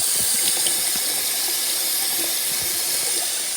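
Water runs from a faucet into a Ducky Splash toy with floating ducks, making a loud, constant close splashing hiss with small gurgles and no voices.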